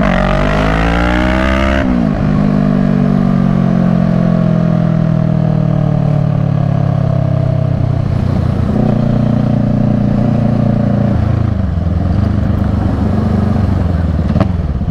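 Kawasaki ER6 motorcycle ridden on new tyres, its engine loud and close, revving up in pitch, then settling and climbing again through gear changes with a steady drone.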